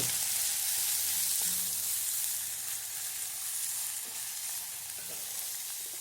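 Sliced onion and curry leaves sizzle steadily in a hot pan, with a constant bright hiss and a few faint stirring scrapes.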